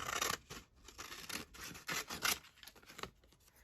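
Scissors snip repeatedly through a printed book page being trimmed into a frame, a quick run of close, crisp cuts and crackling paper with brief pauses between strokes.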